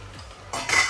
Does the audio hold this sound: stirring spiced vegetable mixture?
yes